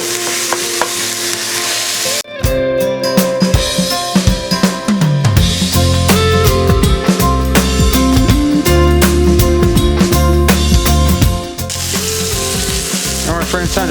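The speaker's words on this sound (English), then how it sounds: "So get your burger right in the middle. Get something flat and smash the hell out of it." A smashed burger patty sizzles loudly on a hot griddle, a steady, close frying hiss that runs almost the whole way through over a tonal background.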